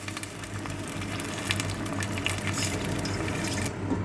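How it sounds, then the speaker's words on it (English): Water pours into a cooking pan holding olive oil and frying onions for caldo verde, a Portuguese green soup, giving a steady, close rush of liquid that lasts throughout and stops abruptly near the end. "Pour the water."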